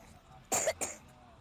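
Two quick, harsh coughs close to the microphone, back to back, against a quiet background.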